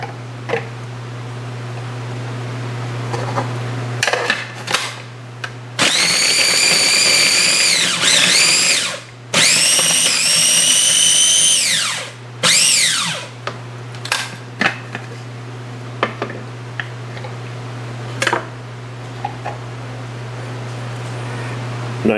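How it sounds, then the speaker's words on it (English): A mini food processor grinds ginger in two long whirring bursts, loud and close, followed by short pulses and clicks as the blade starts and stops, with a steady low hum underneath. "What I'm going to do now is put this in a mini food processor, grind it up."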